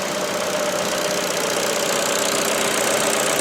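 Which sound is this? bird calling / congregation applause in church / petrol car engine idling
petrol car engine idling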